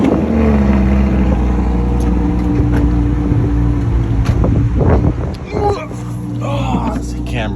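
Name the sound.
Lamborghini Aperta engine starting up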